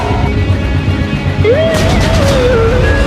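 Explosion in a video game, a loud, dense burst of noise followed by a rising, warbling tone that lingers for a couple of seconds, with no talk over it.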